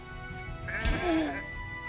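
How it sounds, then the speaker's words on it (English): A sheep bleats once in the video game Renowned Explorers, a short wavering cry over a low game background. "Wow, I've never seen an aggressive sheep before."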